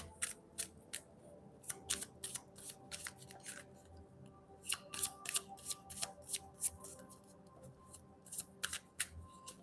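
Tarot cards handled and gathered into a pile, giving a run of crisp close snaps, flicks and rustles at an uneven pace, some in quick clusters, over a faint steady background hum with no talking.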